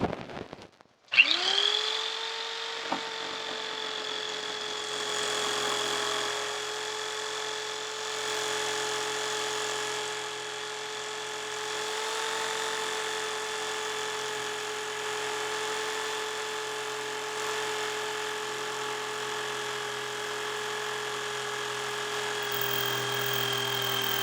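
Power saw running steadily through 2x4 lumber for a ladder shelf build, a sustained whining motor tone with a sharp start, holding loud and even for over twenty seconds with no talk.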